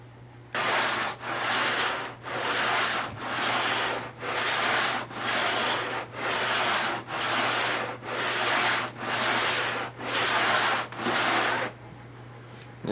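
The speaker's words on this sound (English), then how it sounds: "We'll take the rest of it off with the belt sander." A belt sander works the plywood side of a model airplane fuselage, giving a dozen evenly spaced, loud rasping strokes over a steady motor hum, with no talking.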